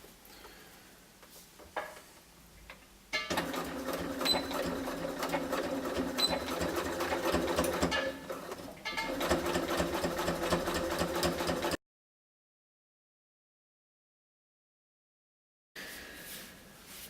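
Sewing machine stitching in the ditch along a trouser waistband: a steady, close mechanical whir that starts after a brief quiet lead-in, runs for several seconds with small pauses, cuts out, then resumes briefly.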